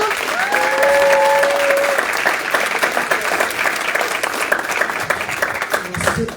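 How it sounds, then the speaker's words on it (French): A church congregation breaks into steady applause at an evening celebration service, loud and sustained clapping with crowd noise throughout and a faint voice near the start. "Un bon applaudissement."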